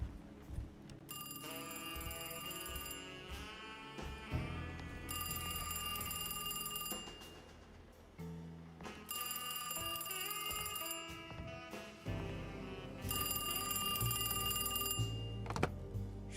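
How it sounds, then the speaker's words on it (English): A telephone rings inside the video game Alone in the Dark, loud repeated bursts of bright bell-like trilling separated by short pauses, alone over a low game ambience. "Let's go answer the phone."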